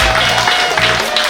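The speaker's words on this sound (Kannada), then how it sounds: "ಪ್ರೀತಿಯ ಚಪ್ಪಾಳೆಗಳನ್ನು ಇರಬೇಕಂತ ಕೇಳ್ಕೊಳ್ತಿದ್ದಾರೆ" Audience applause at a school reunion for St Anthony's, a dense, steady patter of many hands clapping close and loud throughout, with no clear talk over it.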